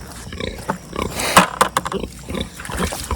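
A farm pig being fed apples gives loud, close grunts and a sharp squealing oink, with snuffling and chewing between the calls.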